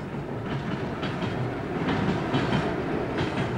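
A train creeps at about 10 km/h along newly laid rail through the Tian Shan mountains. A steady rolling rumble carries faint clickety-clack beats, with no talk.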